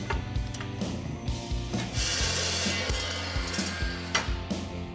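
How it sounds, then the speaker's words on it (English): A tube bender works a length of 1 5/8 inch steel tubing into a 90-degree bend for a truck brush guard hoop. Close, continuous grinding and creaking strain with rhythmic ratcheting clicks, and no talk. "we're gonna bend it to 90. We're gonna be using 1 5/8 tubing for the main hoop on our brush guard"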